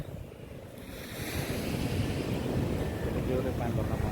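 Heavy sea surf pounding rocks at a busy fishing port in India, a steady roaring wash of breaking waves with wind buffeting the microphone, growing louder after the first second and staying close and continuous.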